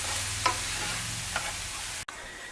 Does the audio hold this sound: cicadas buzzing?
no